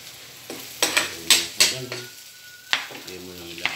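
Chicken frying with onions in a pan, a constant sizzle broken by several sharp metallic scrapes and clanks of a utensil stirring, with faint talk underneath.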